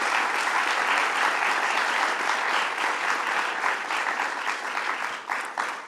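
Sustained applause from an audience at a governor's announcement event, honoring the Bronx borough president: dense, steady clapping throughout, fading slightly toward the end.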